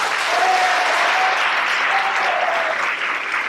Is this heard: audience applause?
yes